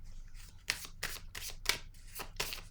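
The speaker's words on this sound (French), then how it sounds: "Je vais piger une autre carte." Tarot cards being shuffled and drawn, four or five quick papery riffles and slides in close succession, near and soft, with no talking.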